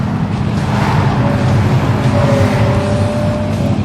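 Honda Civic Si driving around a test track, its engine giving a loud, steady drone with a faint rising whine partway through, close and continuous with no talking.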